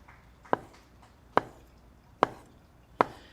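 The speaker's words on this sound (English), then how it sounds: "The next process is to cut, about 1/4 inch thick slices." A knife slices through homemade noodle dough on a board, four crisp, evenly spaced chops close by with quiet gaps between them and no talking.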